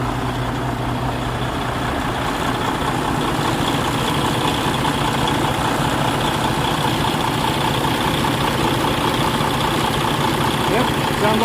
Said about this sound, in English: Yep, sounds like a truck.